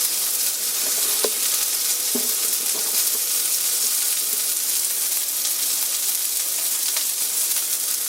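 Thin-cut bacon sizzles steadily in a cast iron pan, a dense, even crackle and hiss with a few sharper pops, close up and uninterrupted for several seconds.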